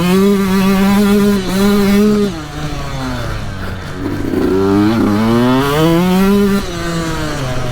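A Sherco 2020 enduro motorcycle engine, one of the 125 or 300 two-strokes or the 300 four-stroke, revs loud and close while riding, with the pitch dipping and climbing again as the throttle rises and falls.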